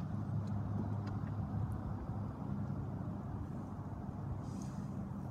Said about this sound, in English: the vehicle does unlock and will initially roll down the windows, drop the top for you